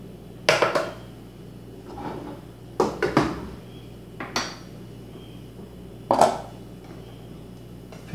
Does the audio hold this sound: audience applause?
no